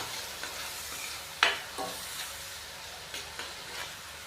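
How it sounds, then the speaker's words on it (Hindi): Spice masala for an aloo shimla mirch curry being stirred and fried in a pan, a faint sizzle under several scattered scrapes and clinks of a spoon against the pan. "अच्छे से मिक्स करेंगे और मसाले की 5 से 7 मिनट के लिए अच्छे तरीके से भुनाई कर लेंगे।"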